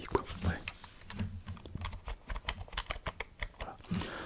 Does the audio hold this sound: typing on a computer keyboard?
yes